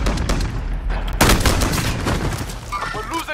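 Rapid gunfire from a gun in a first-person shooter video game, a dense burst of repeated shots running throughout with loud cracks and game effects layered over it.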